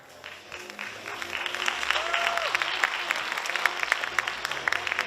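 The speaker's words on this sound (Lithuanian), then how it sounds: "Ir paskutinė pozicija, audringi plojimai salėje" Loud, sustained applause fills a hall at a men's fitness bodybuilding competition, with dense clapping building and holding under faint crowd noise.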